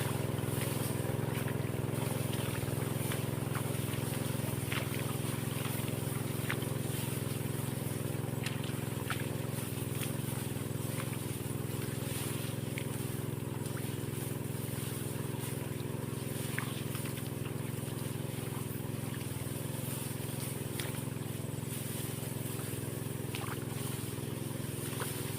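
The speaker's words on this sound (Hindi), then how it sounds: "अगर पूरे खेत में पानी हो गया होगा तो इंजन को बंद कर देंगे और अन्यथा चलने देंगे।" A diesel irrigation pump engine runs steadily in a rice paddy, a loud continuous low drone with a constant hum that holds unchanged throughout, with no voices heard.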